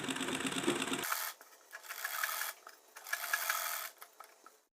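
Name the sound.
sewing machine stitching edges of top lining and fabric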